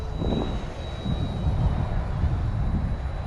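An OMP M1 RC helicopter flies nearby with a steady, high-pitched motor whine over a constant rushing rotor hum, continuous and even throughout.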